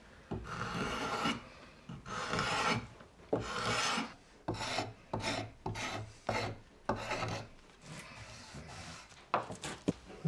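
A forged drawknife, used as a scraper, rasps across wood in short uneven strokes with pauses between them. The scraping is close and fairly quiet.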